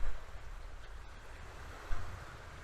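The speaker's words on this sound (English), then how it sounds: "the wind's blowing towards me, towards the camera at the moment" Wind blowing toward the camera at a lakeside camp, a close, low rumbling gust buffeting the microphone over a few seconds, with a stronger burst near the end.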